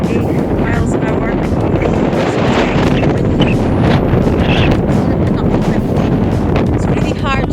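Strong gusty wind of around 30 mph roaring across a microphone while cycling on the Isle of Tiree, a loud, constant blustery rumble with no letup.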